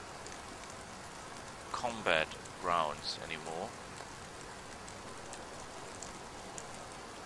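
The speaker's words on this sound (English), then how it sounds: "It's fog and rainy." Steady rain hisses softly and continuously in a fog-covered medieval battle scene in Mount & Blade. Someone speaks briefly over it partway through.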